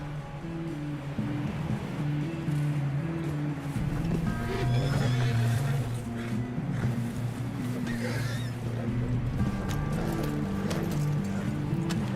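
Horse whinnies and hooves clip-clop in Red Dead Redemption 2, a steady gallop under a low rumbling bed, with a couple of neighs rising over the hoofbeats and no talk.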